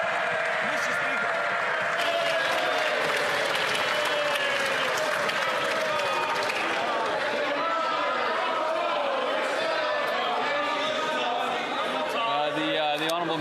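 Sustained applause and crowd noise fill the House of Commons chamber during a parliamentary session, a steady dense roar of clapping with voices mixed in throughout.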